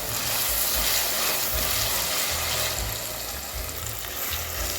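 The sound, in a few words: ginger garlic paste frying in a pan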